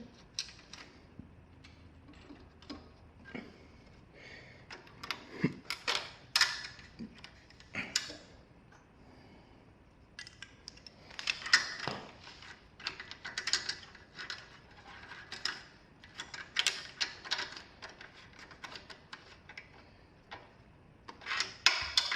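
Ratcheting and clicking as a wrench tightens 10mm bolts on a Craftsman power washer, irregular close metallic ticks in bursts with short pauses, no talking.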